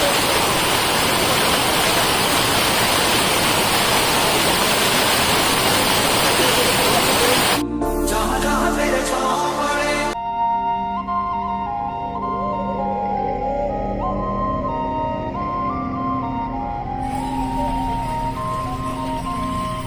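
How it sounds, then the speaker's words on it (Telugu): Rudra waterfall on the Kedarnath trek roars with a loud, dense rush of falling water for several seconds. The sound then cuts abruptly to music and quieter background. "పైన చూడండి వాటర్ ఫాల్స్ ఎలా ఉన్నాయో, సూపర్ అసలు. రుద్ర వాటర్ ఫాల్స్ అంట"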